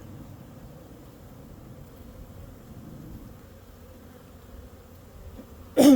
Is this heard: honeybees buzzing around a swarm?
yes